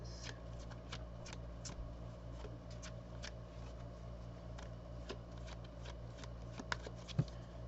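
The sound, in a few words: tarot cards being shuffled and drawn from a deck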